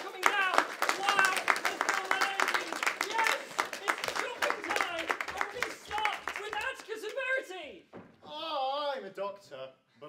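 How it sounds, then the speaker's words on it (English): Audience clapping at a student comedy society show as performers return to the stage, dense scattered claps for several seconds, then fading as a voice speaks over the end. "Let's give them a clap as they're coming down."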